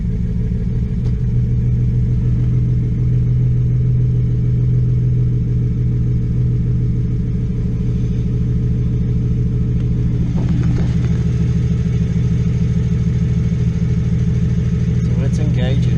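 A BMW Z4 with straight pipes, headers and a newly fitted engine idles at its first start-up, giving a loud, constant low rumble that stays close and steady. A few brief, faint clicks sound near the end.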